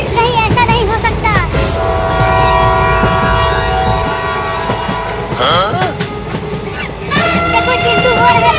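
A cartoon train roars past with horn blasts and rattling cars, loud and continuous, layered with music and sound effects.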